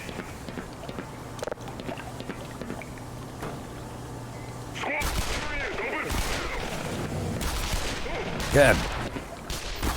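Gunfire in the Black Mesa game: scattered faint shots at first, then a busier exchange of close, sharp reports in the second half, with a louder burst near the end and a voice talking over it.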